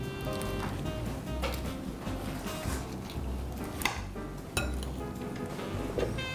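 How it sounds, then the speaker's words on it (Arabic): Salad tossed gently in a serving bowl, with repeated soft clinks and scraping of utensils against the dish in an uneven rhythm under a background hum. "بدنا نقلب السلطة شوي شوي علشان ما يطلعش من الجاط"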